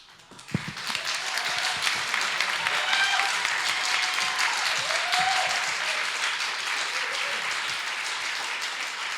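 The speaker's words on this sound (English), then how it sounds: "I don't even have to say a round of applause for Krista" After a startup pitch at the 2024 Circular Austin Showcase, the crowd bursts into applause that starts sharply and keeps going at full strength for about nine seconds, a thick, steady clapping with a few faint voices mixed in.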